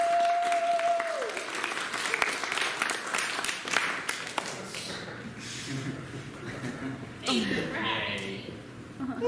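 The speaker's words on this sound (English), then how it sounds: "Can we have a round of applause for our contestant" Audience applause for a contestant at a university welcome week show, sustained clapping with scattered chuckles and cheers, and speech breaking in near the end.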